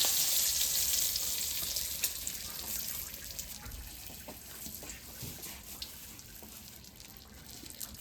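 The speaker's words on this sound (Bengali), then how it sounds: "মাছ ভাজা হয়ে গেছে আর শুকনা মরিচ তেজপাতা দিয়ে পুরন দিয়ে দিলাম" Dried red chillies and bay leaf crackle in hot oil as a tempering for a snakehead fish and potato curry. The sizzle hisses loudly at first and eases over several seconds, with light stirring clicks and no speech.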